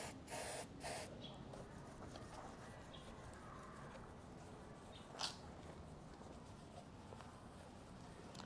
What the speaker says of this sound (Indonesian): langsung aja kita semprotin biar kinclong.